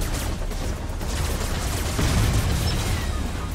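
SMG fire from a helicopter-style copter build in Robocraft, a steady dense stream of rapid shots rattling continuously at close range with no pauses.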